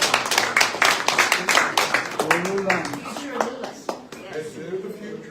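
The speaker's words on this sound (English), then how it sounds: "Give them a round of applause." Applause for a group being honoured at a public event, a burst of sharp clapping that thins and fades over several seconds while a voice speaks over it.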